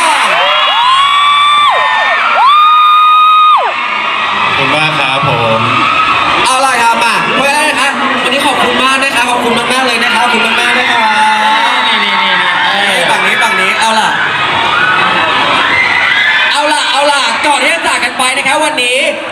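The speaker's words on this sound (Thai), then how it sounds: "จอดใครคนไหนขอเสียงกรี๊ดคนนั้นดังๆหน่อยครับ" A large crowd of fans at an idol fan event screams and shrieks in high-pitched, sustained waves, loud and continuous, with excited cheering throughout.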